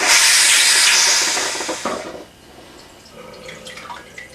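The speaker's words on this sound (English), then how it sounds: "You'll hear the water coming through." Loud rushing hiss of water flowing through a pipe into a toilet cistern for about two seconds, then cutting back to a quieter trickle and drips.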